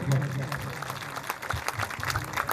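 A crowd claps at a rural kushti wrestling fair, a dense, sustained patter of applause mixed with an announcer's voice over a loudspeaker.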